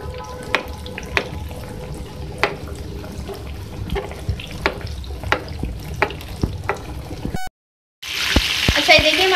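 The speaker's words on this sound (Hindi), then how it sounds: "हमारा जो चिकन ही फ्राई हो रहा है, चिकन ब्रोस्ट" Crispy chicken broast frying in oil, a dense close sizzle punctuated by regular knocks and clatter, then a brief gap before a louder, brighter hiss.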